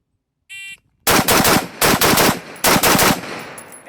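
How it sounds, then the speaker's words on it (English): A rifle with a Geissele URGI upper fires at targets in close, loud bursts. A short beep comes first, then three quick groups of shots with brief gaps between them. "now I'll do 3 shots per target, starting on the center target first"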